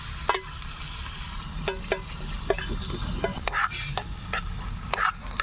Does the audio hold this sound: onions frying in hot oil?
yes